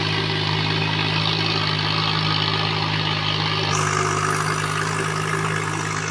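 A VST Shakti 130 DI mini tractor engine runs steadily while puddling a muddy paddy field, a loud, continuous close drone with no talking.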